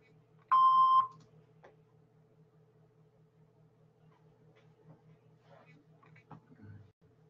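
A single loud electronic tone from an answering machine sounds after the greeting, a steady half-second beep followed by quiet line hiss with faint clicks.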